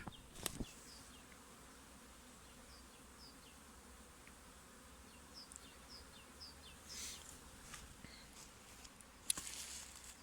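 Honeybees buzz faintly in the background, individual insects droning past now and then, with a couple of light knocks.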